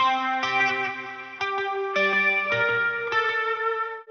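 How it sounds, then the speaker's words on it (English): Heavily fuzz-distorted electric guitar chords ringing out with a swirling delay effect, changing every half second or so, played alone and loud. "this insane distortion is what makes the difference"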